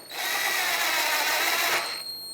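Power driver running a bolt into the top of a 2014-2021 Mazda 6 front bumper cover: one close, high whirring burst of about two seconds that stops abruptly, with no talk.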